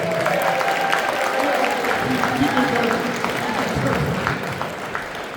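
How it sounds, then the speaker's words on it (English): An audience at a car show awards ceremony applauds steadily, the clapping sustained and full before easing off near the end, with some talk mixed in beneath it. "Give Amber a big round of applause"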